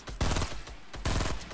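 Gunfire in the Fortnite video game: two rapid bursts of shots, each lasting a fraction of a second, loud and close, with no talking.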